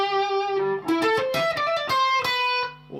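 Clean-toned electric guitar playing a song's intro solo line, a flowing run of single picked notes and slides with ringing sustain, moderately loud and played alone.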